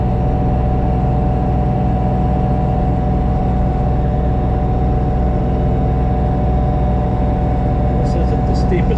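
A diesel engine of an LS MT2 tractor labors steadily in low gear while climbing a bank, a loud, close, constant drone with a few brief clanks near the end.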